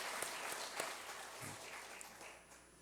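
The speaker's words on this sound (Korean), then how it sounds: "한번 우리 박수로 환영하겠습니다" A church congregation claps in welcome during a worship service, the scattered handclaps soft and somewhat distant, fading gradually toward the end.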